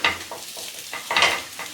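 Moong dal appe being turned over in an appe pan with a little oil, giving a few close, sharp metal clicks and scrapes over a light sizzle.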